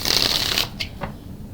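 A deck of tarot cards is riffle-shuffled close up, a dense rapid flutter that ends in a few sharp taps as the cards settle.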